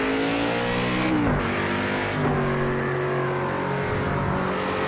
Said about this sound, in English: I definitely recommend this Chevrolet. As I say, I think the sounds alone are an achievement